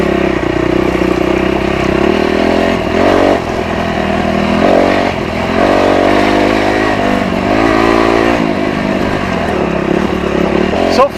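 Dirt bike engines on a dusty North Idaho hard enduro trail near Gold Creek Lodge run loud and steady, with a rough mid-pitched drone and slight throttle swells. Voices talk over the engine noise.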